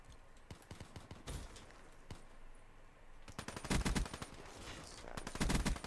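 Automatic weapon fire from a Call of Duty: Black Ops 3 match, with scattered single shots early on, then loud, dense sprays of rapid bursts in the second half, with no voices.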